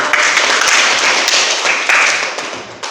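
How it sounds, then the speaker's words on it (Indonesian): Hands clapping in a classroom: a dense, steady round of applause from a group, loud and continuous with no talking over it. "Ya, kita berikan aplaus untuk"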